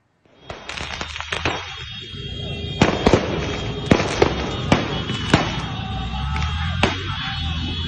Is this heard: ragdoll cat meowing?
no